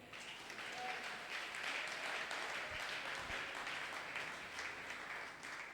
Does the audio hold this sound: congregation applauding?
yes